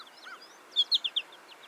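Goldfinch song: a quick run of four bright, clear chirping notes near the middle, preceded by softer, fainter twitters, set against quiet background hiss.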